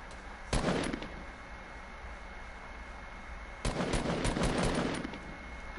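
Rapid automatic gunfire in a building shooter video game rattles out in two bursts, a short one near the start and a longer sustained volley later, with quieter game ambience between them.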